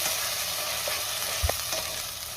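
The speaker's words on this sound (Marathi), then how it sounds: "पुन्हा 2 मिनिटं मी चांगलं परतून घेते।" Mutton masala sautés in oil in a pan, a soft steady sizzle with a brief stirring knock midway, quiet and close with no talking.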